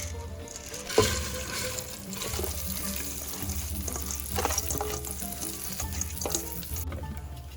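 Soaked, drained rice frying in ghee with spices in a pan for mandhi, a continuous close sizzle with stirring scrapes and a sharp clack near the start, no voice present.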